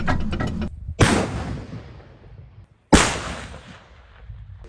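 A T-72 tank fires its 125 mm cannon at the front line, two heavy booming blasts about two seconds apart, each with a long rumbling decay that fades into quiet.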